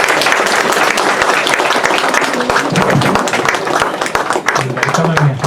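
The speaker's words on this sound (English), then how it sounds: "Give a huge clap once again." An auditorium audience claps at a felicitation ceremony for Chief Justice of India B.R. Gavai, with dense, sustained applause mixed with voices and crowd chatter.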